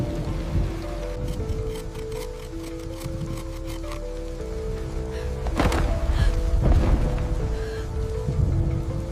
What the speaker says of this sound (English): the storm cannot harm you